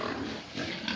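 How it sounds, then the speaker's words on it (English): Black and white pigs on a pig farm in Nepal give short grunting snorts over steady farmyard background noise, fairly close and without talk. "See, so beautiful pigs are here. Black pigs, white pigs."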